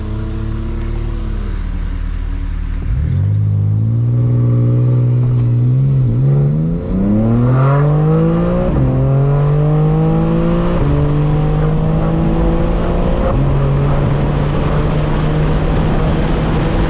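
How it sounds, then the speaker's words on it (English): A stock BMW M340i sits idling, then launches hard, its engine climbing steeply through several upshifts with brief dips between gears, the roar loud, close and steady throughout. "See if I can get a launch control going."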